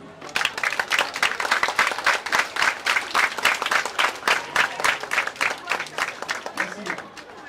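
A school or education gathering honouring teachers and workers breaks into a standing ovation, with loud, dense clapping that pulses in rhythmic waves, close and sustained, with no voices over it.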